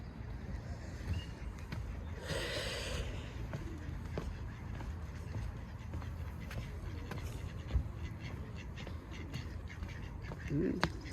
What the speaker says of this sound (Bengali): এখানে মানুষ বসে বসে হাঁসদের খেলা দেখে